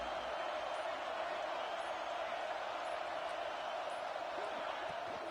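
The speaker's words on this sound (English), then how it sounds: "This crowd is trying to inspire this defense to make a big red zone stop." Football stadium crowd roaring for the defense before a red zone play at Texas A&M versus Alabama, a dense sustained wall of cheering and noise throughout.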